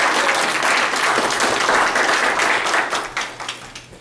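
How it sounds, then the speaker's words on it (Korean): Church congregation applauding at a Christmas Sunday service in Connecticut, a dense steady wash of many hands clapping that fills the room, then thins and tapers into scattered claps near the end. "우리 박수로 한번 경배하겠습니다."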